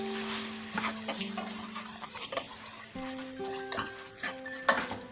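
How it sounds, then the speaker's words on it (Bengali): Tomato and spices for a Bengali vegetarian curry being stirred in a cooking pan, giving a steady scraping and clinking of a spoon against metal over a soft, continuous sizzle, with faint tonal sounds in the background. "সবকিছু আবার আমি ভালো করে মিশিয়ে নিচ্ছি"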